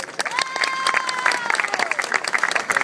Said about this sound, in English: How about a round of applause for Hugh?